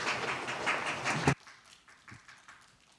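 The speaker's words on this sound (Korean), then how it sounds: "큰 박수로 환영해 주시기 바랍니다" A conference audience applauds to welcome a speaker at the Asian Leadership Conference 2021 session on AI and legal services: a dense burst of clapping for just over a second that stops abruptly, leaving quiet room tone.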